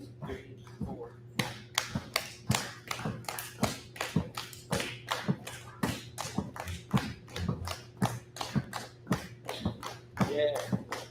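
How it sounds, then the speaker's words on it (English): Concert audience at a jazz masterclass clapping hands along to a count, a steady run of sharp, evenly spaced claps over a low hum, with a voice briefly near the end. "clap your hands"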